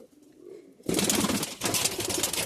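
A pet bird from a pair that has laid eggs coos loudly and close by, beginning abruptly after a near-silent moment and carrying on in throaty pulses.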